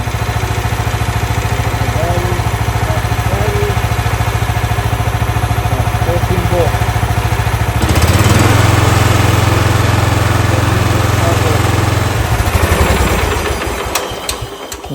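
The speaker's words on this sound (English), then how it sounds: "I'm going to start up the tractor." A John Deere tractor engine chugs steadily, then roars louder as it catches and settles into a rough, even idle before tapering off near the end.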